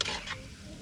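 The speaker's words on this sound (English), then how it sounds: "And just stir." Spoon stirring a coconut mixture in a cooking pot, a brief scraping swish over a low simmering sizzle, close and steady with no voices.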